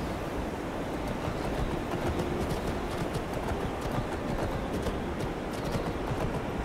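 Horse hooves clip-clop steadily in Skyrim, a continuous brisk trotting rhythm that keeps on without pause from start to finish, fairly loud and up close.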